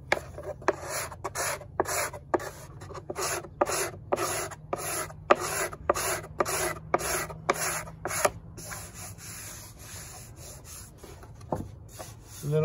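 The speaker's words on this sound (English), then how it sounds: "I use my scraper to get some of the material down." A hand scraper shaves wood on an archtop guitar top, a steady series of rhythmic rasping strokes, close and alone, thinning out toward the end.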